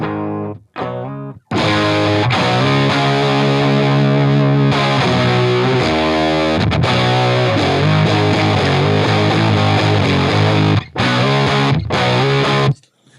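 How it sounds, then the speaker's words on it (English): A heavily distorted electric guitar plays loud, saturated chords and riffs with brief pauses through a Drunk Beaver Seattle Driver pedal, gain fully up, the tone thick and fuzzy with power-tube-style distortion. "it's got like a power tube distortion sound"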